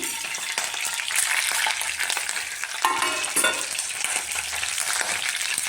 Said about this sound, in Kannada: ಇದಕ್ಕೆ ಸಾಸಿವೆ ಜೀರಿಗೆ ಕಡಲೆಬೇಳೆ ಉದ್ದಿನಬೇಳೆ ಮೆಂತ್ಯ ಕರಿಬೇವು ಒಣಮೆಣಸಿನ್ಕಾಯಿ ಹಾಕ್ತೀನಿ